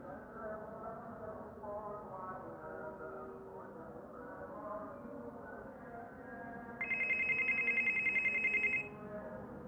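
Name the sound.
WhatsApp call ringing on an old Android phone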